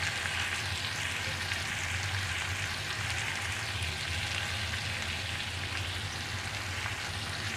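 Dhaba-style tomato masala frying in a pan, a steady dense sizzle like light rain that holds evenly and close throughout, with no voices.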